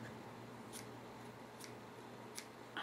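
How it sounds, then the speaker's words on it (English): Scissors snipping through white Celebrate It craft ribbon at a card-making table: three or four faint, crisp little cuts spaced about a second apart over quiet room hiss. "And I'm just going to cut my ribbon."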